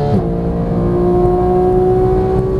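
A Porsche 911 GT3 on the Las Vegas track pulls hard right after an upshift, the engine note dropping briefly then climbing in a smooth, loud, close-up whine from inside the car, with no talking.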